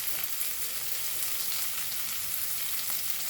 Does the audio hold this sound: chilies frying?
yes